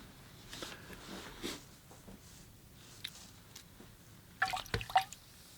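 A watercolor paintbrush is rinsed in water with soft drips and light swishes, followed by a louder cluster of splashy drips near the end. The sounds are close and quiet, with no talking.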